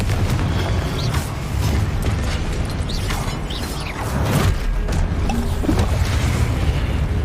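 Confringo fire spell in Hogwarts Legacy on PS5, a run of booming magical blasts and crashing impacts over dense, continuous game noise, fairly loud throughout.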